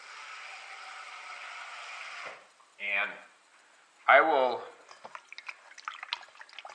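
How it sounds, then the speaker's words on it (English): Tap water running into a pot holding fish fillets, a steady hiss for about two seconds that stops, followed by drips and handling sounds, with brief speech in between. "I run some water in there,"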